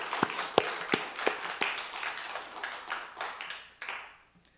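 Scattered claps from a church audience during an evangelism festival service, a few uneven hand claps spaced out over several seconds at moderate distance, thinning and dying away toward the end.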